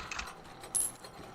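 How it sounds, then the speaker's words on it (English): A short mechanical click from a lever in a video game, one sharp ratcheting snap in the middle over a quiet background. "You hear a clicking sound."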